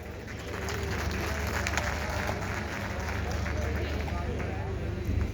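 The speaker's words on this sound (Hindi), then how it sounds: "कोई हेजिटेशन होनी नहीं चाहिए ताली बजाने में." A crowd claps together at a real-estate prelaunch booking event, a dense, steady wash of applause that holds for several seconds at even loudness.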